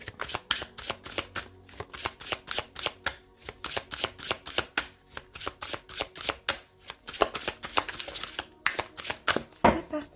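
Tarot cards being shuffled and cut by hand, a rapid rhythmic series of close, crisp riffling flicks and slaps repeating steadily, ending in a louder final cut, with no talking.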